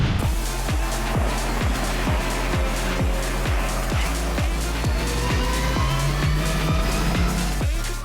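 Race cars pull away at the start of a race at Motorland Aragon, engines roaring loudly and continuously close by, with rhythmic pulsing and a rising whine toward the end.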